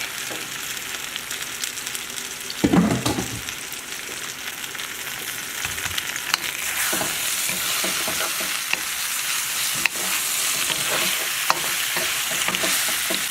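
Shrimp being stir-fried in a hot pan, a continuous loud sizzle with scraping stirs and tossing clatter throughout, no voices.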